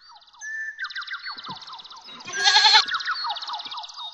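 Goats bleat repeatedly in quavering, wavering calls that overlap one another, close and fairly loud, with a louder burst partway through and no talk over them.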